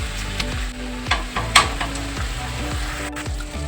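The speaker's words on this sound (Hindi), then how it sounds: "दो से 3 मिनट ऐसे चलाते रहेंगे इसको" Potatoes with fenugreek leaves and tomatoes fry in a pan and are stirred continuously, with a loud, steady sizzle and intermittent scraping of a spoon over a low background tone.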